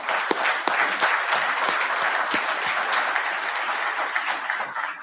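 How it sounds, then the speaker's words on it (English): An audience applauds the band at a U.S. Military Academy change of responsibility ceremony, with sustained, dense clapping and a few sharp individual claps standing out, fairly close and filling the whole stretch. "Please join me in a round of applause to the band"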